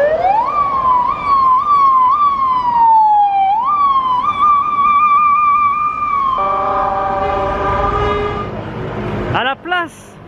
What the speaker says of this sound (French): mais les sirènes d'ambulance elles sont stylées.